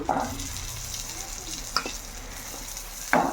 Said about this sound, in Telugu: ఇలా బాగా ఫ్రై అయిన తర్వాత ఇందులో ఎగ్స్ వేసుకోవాలన్నమాట